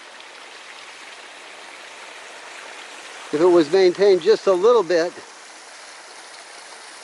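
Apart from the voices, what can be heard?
creek water flowing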